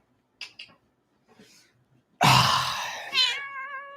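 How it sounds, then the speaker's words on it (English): A cat lets out a loud, drawn-out meow close by, rising and then trailing off, after a few faint soft sounds. "Meow. Meow, meow,"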